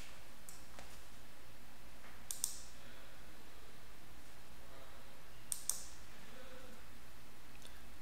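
A computer mouse gives two pairs of quick, faint clicks about three seconds apart while selecting volume profile indicators on a TradingView chart, over quiet room noise with no talking.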